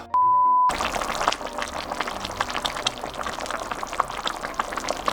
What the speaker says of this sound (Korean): 자, 그러면 바로 한번 끓여 보도록 하겠습니다.